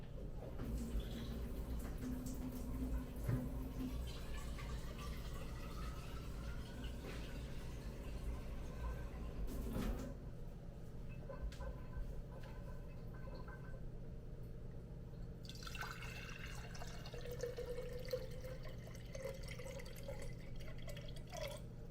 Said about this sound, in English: I'm gonna pour the water in first so I know exactly how much it can hold.